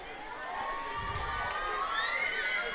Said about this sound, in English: Another one's cheering for beer in the 90s.